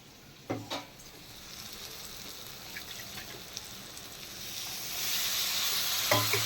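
Onion, cashew nuts and grated coconut sizzle steadily while frying in a pan, with a couple of sharp stirring scrapes near the start and end and the hiss growing brighter toward the close.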